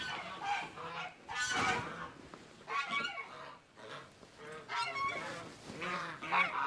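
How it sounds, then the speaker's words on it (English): Geese honk repeatedly at close range, producing a series of loud, harsh calls in uneven bursts that overlap one another, with no other sounds competing. "That was a little goose we was chasing."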